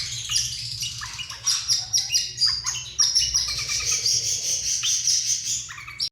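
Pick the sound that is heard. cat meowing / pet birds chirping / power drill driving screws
pet birds chirping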